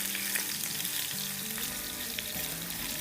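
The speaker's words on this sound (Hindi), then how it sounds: "और अब इसमें हम डाल देंगे 2 टीस्पून भर के कुटा कुटा लहसुन।" Crushed garlic, straight from the freezer, sizzling in hot oil in a pan over a lowered flame, a continuous close crackling fry without any talking.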